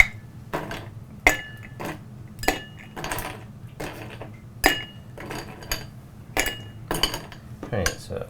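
Ice rattling and clinking in a mixing glass as a pine-needle cocktail is stirred to chill it: a close, steady series of bright metallic and glassy knocks with a low background hum throughout.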